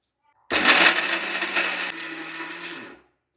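A kitchen mixer grinds sesame seeds into powder for peanut laddu, starting abruptly with a loud whirring roar and rattling seeds, then settling into a lower, steadier hum before cutting off after about two and a half seconds.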